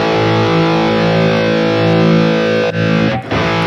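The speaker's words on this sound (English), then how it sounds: "It has another distortion channel with more distortion" An electric guitar runs through the high-gain distortion channel of a Harley Benton DNAfx GiT Pro, producing a thick, saturated sustained chord that rings loudly for several seconds before brief choked gaps near the end, with no talk.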